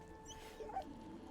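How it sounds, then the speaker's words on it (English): A dog in the video game Baldur's Gate 3 gives a short, soft whimper over a steady low background hum. "Pet the dog."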